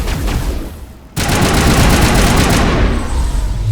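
Heavy rifle gunfire in Mass Effect: Legendary Edition, a loud sustained burst of rapid shots that erupts after a short lull and roars on for over two seconds before tailing off.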